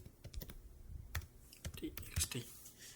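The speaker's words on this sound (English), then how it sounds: "I'm typing something by because I've been practicing before the video." Quick bursts of clicky keystrokes on a computer keyboard while typing in the Vim editor at a terminal, close and fairly quiet, with irregular pauses between runs of keys.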